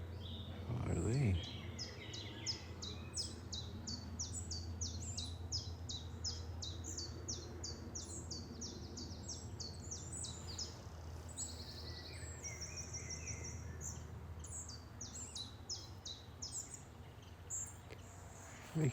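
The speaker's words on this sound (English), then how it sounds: "I've got some wee birds." Small woodland birds in Scotland give rapid series of high, thin chirps and tweets, fairly near, over a low steady background hum across most of the stretch.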